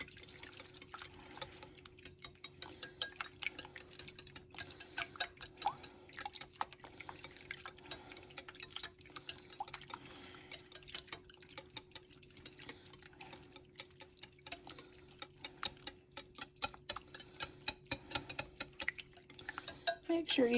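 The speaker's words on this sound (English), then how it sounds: "we need to whisk this up." Eggs being whisked in a bowl for a breakfast casserole, a rapid, steady run of close, light metallic clicks and taps against the bowl throughout.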